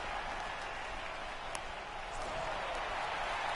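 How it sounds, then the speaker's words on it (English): Home crowd in the MLB The Show 18 baseball video game during the bottom of the 8th, a steady broad roar of cheering and applause filling the whole clip at an even level, with no talk over it. "the home crowd is loving it"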